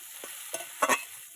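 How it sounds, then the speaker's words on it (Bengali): Spices being sautéed with potatoes in a pan, a few brief soft scrapes of stirring over a faint low sizzle, quiet and close, no talking. "মশলাগুলোকে আলুর সাথে খুব ভালোভাবে কষিয়ে নিয়েছি।"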